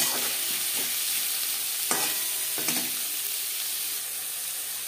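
Onion and tomato frying in a pan, a dense, bright sizzle running throughout with a few scraping stirs at uneven intervals, close and fairly loud.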